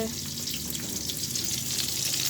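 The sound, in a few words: eggplant frying in pan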